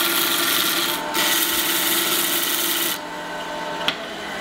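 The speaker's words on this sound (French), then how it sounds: "on utilise vraiment les arêtes, ici de la pierre, pour avoir le plus possible d'abrasion" Abrasive stone lapping a surface under firm pressure, using the stone's edges, a continuous gritty rasping scrape that shifts in tone partway through, close and steady with no talking.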